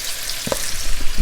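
Kelewele, Ghanaian spiced plantain pieces, frying in hot oil without being turned: a steady, loud, close sizzle and crackle throughout, with no talking.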